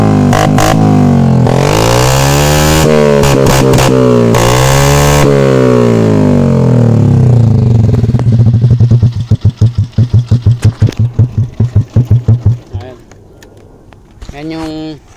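A Yamaha Sniper MX135 motorcycle with an open pipe exhaust revs loudly and close, with long sweeping throttle blips that rise and fall, then settles into a rapid, rough popping idle that slows and fades.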